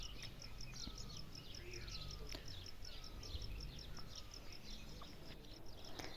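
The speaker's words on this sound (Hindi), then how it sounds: "ये पहाड़ों में जो सुबह सुबह जो चिड़ियाओं की ये चहचहाहट है ना, ये मुझे बहुत ज़्यादा पसंद है" Several birds chirp and tweet in the mountains in the early morning, with repeated short calls at moderate distance over a steady outdoor hiss and faint insect buzzing.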